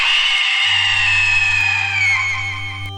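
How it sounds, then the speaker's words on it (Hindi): A woman screams long and loud in a horror tale, a sustained shrill cry over a low steady hum that slowly weakens toward the end. "सुषमा इतने जोर से चिल्लाती है"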